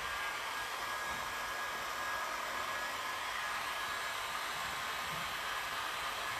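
A hair dryer blowing air to dry a 3D relief stencil, a steady, unbroken rushing hum that holds at one level throughout with no voices.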